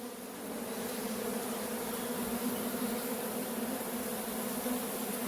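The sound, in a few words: honeybees and drones buzzing in hive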